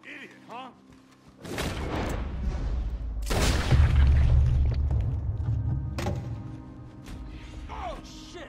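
A gunshot in a video game, a loud, close boom followed by a sustained roaring rumble and a second heavy blast, with a softer sharp crack afterward and no talking.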